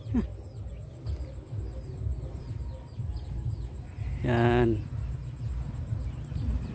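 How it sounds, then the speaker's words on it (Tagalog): Birds call around a mountainside farm on Mount Manyakia in the Philippines, with a few faint chirps early on and one clearer, louder warbling call midway, set over low rumbling background noise. "Daming ibon, may humuni."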